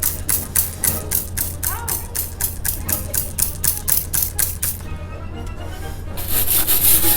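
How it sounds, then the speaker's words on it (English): A brush scrubs a commemorative plaque doused in Simple Green cleaner, making rapid, regular, close scratchy strokes for about five seconds before stopping, with faint background noise afterward. "You give her a good scrubbing right here."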